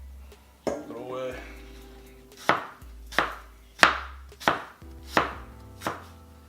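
Apples being sliced with an Almazan Serbian chef knife, giving about seven sharp, evenly spaced chops against a cutting board, close and crisp, with a voice talking quietly near the start.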